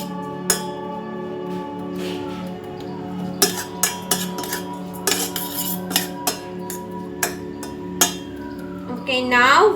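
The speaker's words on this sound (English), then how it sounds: "we're going to mix it so all the water evaporates" Metal utensil stirring quinoa in a handleless pot, with repeated scraping clinks and knocks against the pot over a steady low background hum, louder near the end.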